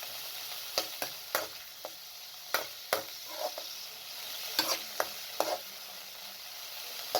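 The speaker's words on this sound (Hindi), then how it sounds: "इतना फ्राई करना है कि चिकन का जो कलर है वो थोड़ा चेंज हो जाए" Chicken pieces fry over medium heat in a pan, giving a steady close sizzle broken by a dozen or so sharp spoon scrapes and clinks from stirring, with no talking.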